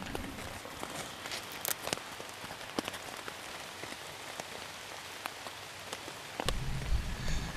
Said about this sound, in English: Second day was all rain.